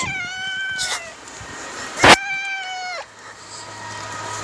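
A pet cat at the veterinarian meows several times in drawn-out, plaintive cries, close and clear, with a sharp burst of noise between calls.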